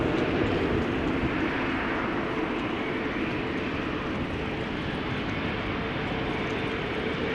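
A KLM Boeing 777-300ER on runway 18 left at rainy Amsterdam Schiphol gives a steady, distant jet roar that holds evenly throughout, broad and unbroken with no voices.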